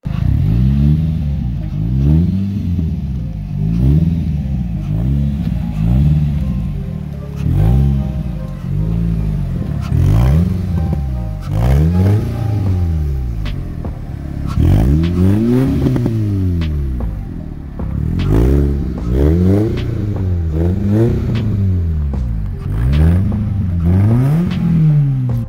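A 2022 BMS Sniper T1500 four-cylinder off-road vehicle with a five-speed gearbox revs repeatedly, each throttle blip rising and falling in a steady cycle, loud and close with a slight mechanical clatter and no talk.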